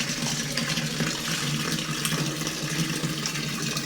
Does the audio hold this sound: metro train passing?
no